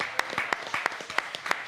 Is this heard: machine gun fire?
no